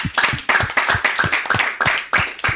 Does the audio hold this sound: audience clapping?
yes